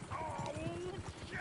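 Horse hooves clip-clop steadily in Red Dead Redemption 2, with a whinny-like tone and someone talking over them throughout.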